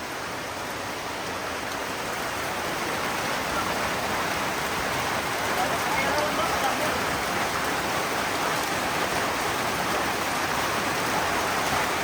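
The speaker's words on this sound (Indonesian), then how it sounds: "Hujan-hujan." Steady, even rainfall hisses as a dense continuous wash of sound throughout, with no breaks and no talk over it.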